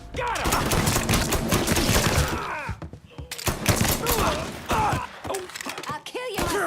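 Rapid bursts of gunfire and thumping impacts from a firefight in Mafia 3: Definitive Edition, loud and dense throughout, mixed with game effects and shouting voices.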